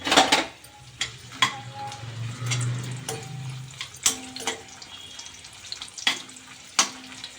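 Dried red chillies dropped into hot oil, giving a steady sizzle with a louder burst near the start, sharp clinks of a metal utensil against the pan, and stirring scrapes throughout.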